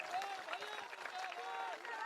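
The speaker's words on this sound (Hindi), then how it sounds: "अब बजाओ ताली" A political rally crowd in Bihar claps together in a steady, dense patter, with a voice carrying faintly above the applause throughout.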